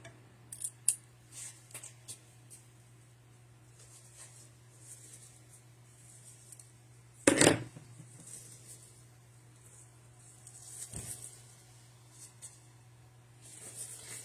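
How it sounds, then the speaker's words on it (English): Scissors snip ribbon ends at an angle, with one sharp, loud cut standing out among fainter scattered snips and rustling of ribbon on a spring lantern swag, no talking. "Cut them at an angle. Just cut them at an angle."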